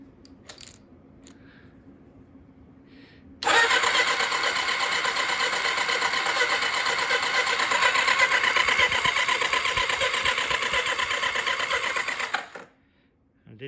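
A 1989 Kawasaki Ninja ZX7 engine is cranked over on the starter. After a quiet start it bursts into a fast, even, mechanical whirring that holds steady for about nine seconds before cutting off abruptly.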